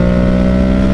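A motorcycle's CP2 parallel-twin engine running close and loud, a deep steady throbbing drone with strong low harmonics and no break for its brief one-second span.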